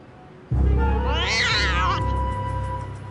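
A single drawn-out cat meow, close and clear, rising and falling over about a second and a half before fading into quiet.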